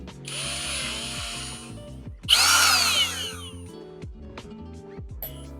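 A power drill whirs in bursts while winding and tightening the strings on a 5-string bass, its motor pitch rising and falling close by, with a louder high-pitched run in the middle and short mechanical clunks between bursts.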